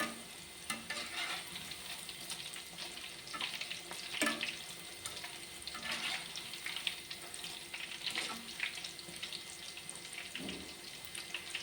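Shallot pakoda fries in bubbling oil, a soft, fairly quiet sizzle with intermittent crackling bursts and occasional utensil knocks as the fritters are turned.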